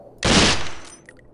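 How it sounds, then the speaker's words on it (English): An M4 rifle fires one short full-auto burst on a SWAT 4 training course, a loud, dense rattling blast that cuts off abruptly after about a second. "Set your M4 to full auto, and try to fire several short controlled bursts"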